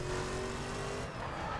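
A Corvette drifts through a corner in The Crew racing game, its engine holding a steady, loud drone while the tires squeal continuously throughout.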